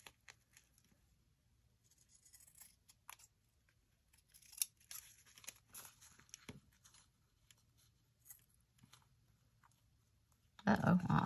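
Scissors cut paper for a card layer in quiet, faint close snips and rustles scattered through the stretch, ending in a louder burst of paper handling.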